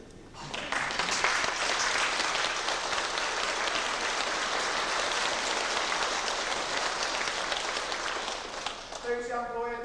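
An audience bursts into sustained applause at an ensemble introduction in Kaunas, dense clapping that swells quickly and holds steady before fading, with a voice speaking over the tail end.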